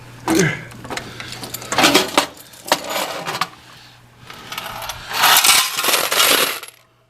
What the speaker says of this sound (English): More stray coins.